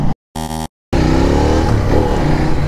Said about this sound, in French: Allez, place à l'essai routier de ce CF Moto 800 MT.